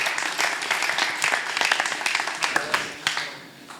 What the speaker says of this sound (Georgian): გთხოვთ აპლოდისმენტებით გავაცილოთ ბიჭები.